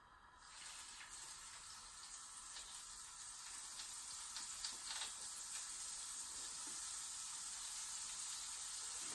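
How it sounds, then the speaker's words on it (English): Steady, loud hiss of butter sizzling in a hot pan, a continuous crackling frizzle with no talking. "Listen to that sizzle."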